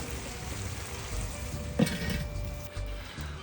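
Shrimp and mussel paella simmers in a pan with a steady, close sizzle and bubbling, plus a brief clink partway through.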